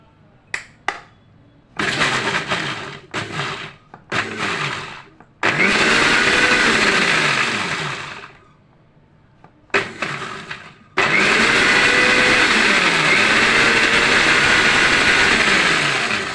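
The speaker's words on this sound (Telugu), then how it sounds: "నెక్స్ట్ మిక్సీ పడదాం." An electric mixer grinder blending bananas with milk, sugar and spoons of added ingredients, starting with short pulses then running in long loud whirring bursts, a brief stop, then a sustained full-power roar, no voices.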